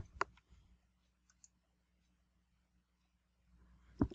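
A computer mouse gives a few sharp, isolated clicks in a quiet room, one near the start and another toward the end, with faint light taps between.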